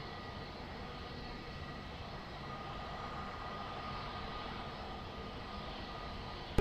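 Airliner engines roar steadily during a takeoff roll at Lisbon Airport, a broad sustained rumble that holds at a constant level throughout, heard from a distance without voices.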